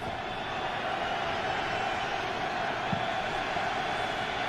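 Steady, dense roar of a large football stadium crowd during an overtime NFL game between the New England Patriots and Buffalo Bills, a continuous wash of distant voices with no distinct cheers standing out.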